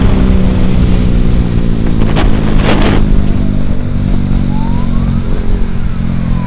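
A Yamaha MT15 and a KTM Duke 200 drag race through heavy road traffic, their engines a close, loud, steady drone with wind noise. A faint siren sweep passes near the end.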